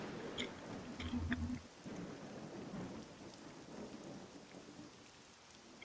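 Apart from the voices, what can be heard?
rain and thunderstorm in Dragon Quest 7 video game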